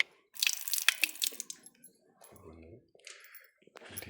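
Water runs from a tap in a sanctuary garden, a close, broad splashing rush in the first second or so that then thins into softer trickling and handling sounds.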